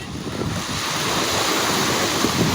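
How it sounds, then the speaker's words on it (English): Ocean waves crash on a beach at night in Fiji, a dense continuous roar of surf with wind buffeting the microphone, loud and close, with no voices. "Is watching Beck get slammed by waves at night time."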